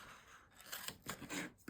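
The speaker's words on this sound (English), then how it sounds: "I'm going to use my scissors this time" Scissors snip through scrapbooking paper close up in a few quick, crisp cuts with short rasping strokes, heard alone in a quiet room.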